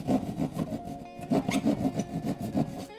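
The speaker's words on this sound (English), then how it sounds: "First thing I'm going to do is cut towards the stud to ensure that we don't encounter the stud." Hand saw cutting through drywall toward a wall stud while installing an electrical outlet, heard as a steady run of rough back-and-forth rasping strokes, close and fairly loud, with a short pause midway before the sawing resumes.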